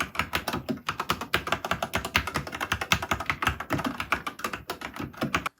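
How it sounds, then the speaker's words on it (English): Steady fast typing on a gaming keyboard fitted with EE01 switches and keycaps, a dense run of crisp clacks and taps close up, with no voices. "I do a sound test of the EE01 switches and keycaps"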